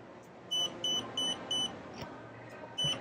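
A diamond tester checking diamonds in a shopping mall gives five short, shrill beeps in a steady run, then one more after a pause, over a murmur of background noise.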